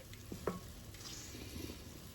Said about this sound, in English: Our chocolate mixture is boiling, so we're just going to take it right off the heat.